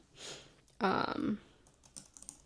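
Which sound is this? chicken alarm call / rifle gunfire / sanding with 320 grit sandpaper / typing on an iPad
typing on an iPad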